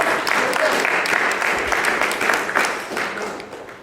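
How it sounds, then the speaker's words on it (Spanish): A church congregation applauds strongly during a Spanish-language worship service, a dense steady wash of clapping with some voices mixed in that tapers off toward the end. "Dele un fuerte aplauso."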